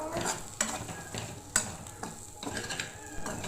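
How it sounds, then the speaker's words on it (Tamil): Spice masala of coriander powder, garam masala, turmeric and cumin powder being sautéed in a pan for egg curry, with a soft continuous sizzle broken by repeated stirring scrapes and clinks of a spoon, fairly close and quiet. "இவ்வளோத்தையும் சேர்த்து பச்சை வாசனை போகிற அளவுக்கு நல்லா வதக்கிடலாம்"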